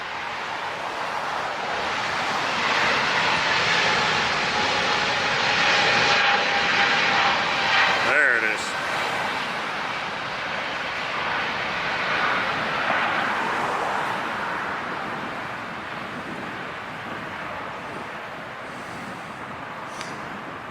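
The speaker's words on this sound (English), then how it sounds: "What a sweet time of day for these planes to be taking off." Jet airliners take off at LAX, a loud, sustained roar that swells and lingers across the whole stretch, with a person speaking briefly over it.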